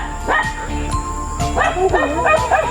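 Dogs yip and bark in short, high, whiny bursts, several in quick succession, with faint voices in the background.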